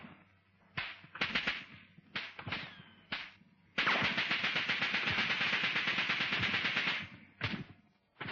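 Bursts of enemy gunfire in a WWII British Army infantry training scene: several sharp single shots, then a long continuous automatic burst of about three seconds, followed by a few more isolated cracks, loud and fairly close.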